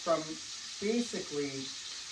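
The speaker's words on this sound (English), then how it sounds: "So we're going to sear this" Beef tournedos sear in a hot pan with a steady broadband sizzle that runs throughout, while a voice sounds briefly over it in a few short bursts.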